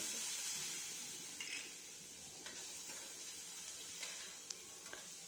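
Tomato with chilli powder, turmeric and salt sautéing for brinjal bharit, giving a faint, steady sizzle with a few light stirring scrapes; no talk.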